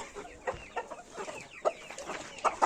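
Chickens and young chicks cluck in short irregular bursts with a few sharper peeping notes, fairly faint and close, with no talk.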